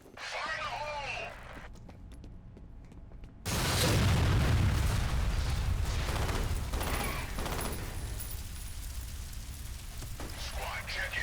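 Grenade explosion in F.E.A.R. Extraction Point, a sudden loud boom right after a voice calls out, its roar sustaining and slowly fading into debris and rumble, with voices heard before and during.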